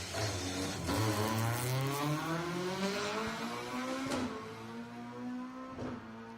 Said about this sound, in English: Though you can hear the engine